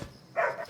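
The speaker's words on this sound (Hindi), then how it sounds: "अरे क्यों भौंक रहा है?" A dog gives a single short bark at moderate distance in a night scene of a Hindi-dubbed action film, with quiet before and after.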